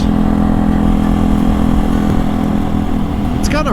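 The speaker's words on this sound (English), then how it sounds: "No, the engine sounds reliable." A motorcycle engine idles loud and steady at close range, a constant low throbbing rumble with no one speaking.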